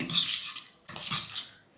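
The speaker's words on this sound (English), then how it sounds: "Give it a good mix up with a fork." Two short bursts of a fork mashing and mixing potato in a bowl, soft scraping and squelching strokes separated by a brief pause, close and quiet.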